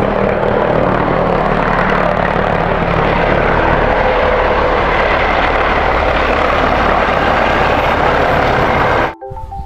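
A loud, constant whirring buzz of a toy helicopter's rotor runs without pause, close by, then cuts off abruptly near the end.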